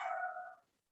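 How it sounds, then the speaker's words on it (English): A pet dog at home gives a single short, fairly faint yelp or bark heard from another room that trails away quickly. "I apologize if you can hear my dog barking."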